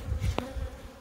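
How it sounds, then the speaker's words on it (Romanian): Honeybees buzzing close by at an open hive while a beekeeper works the colony, a single short droning pass rising out of quiet background noise. "Deci sunt mai rele albinele,"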